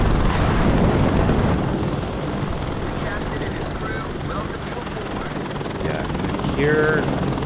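Apache helicopter in the video game Warno, a continuous loud rotor and engine roar with rumbling battle noise, while someone talks over it.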